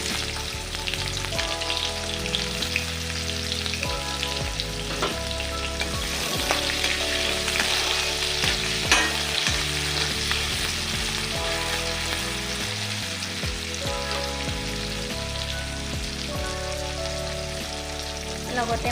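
Chopped onions and whole cumin seeds fry in hot oil in a pan, giving a loud, steady sizzle throughout with occasional stirring scrapes and crackles.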